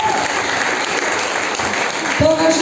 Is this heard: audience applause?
yes